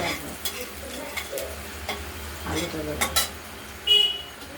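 Onions, spice paste and turmeric frying in a pan and being stirred, with a soft background sizzle under repeated scraping and clinking of a utensil against the pot, close and moderately loud.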